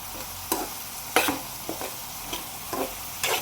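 Mushrooms and tomato pieces fry in a pan under a soft sizzle, while a spoon stirs them in several distinct scraping strokes spaced about every half second to second.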